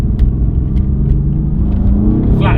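A Mercedes-AMG GT R and a 700 hp Audi RS4 B5 rumble loudly under full throttle at the start of a drag race, a heavy continuous engine roar close to the microphone.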